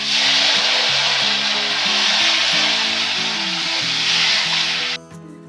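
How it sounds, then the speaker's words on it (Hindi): Water is poured into a hot cooking pan while a festive Rakshabandhan vegetarian thali is prepared, giving a loud, steady sizzling hiss that cuts off abruptly near the end. "तो मैं 1 गिलास पानी डाल रही हूँ।"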